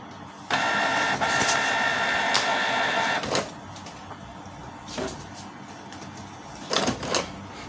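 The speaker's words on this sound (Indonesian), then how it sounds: "kita nyalakan printernya" A Canon G2020 inkjet printer powers on with a whirring mechanical run of about three seconds, followed by a few short clicks and thumps as it settles, close by with no voices.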